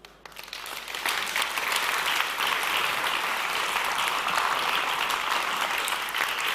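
Festival audience applauding at a main-stage sustainable finance session, building sharply after a quiet start into sustained, loud, dense clapping that continues to the end.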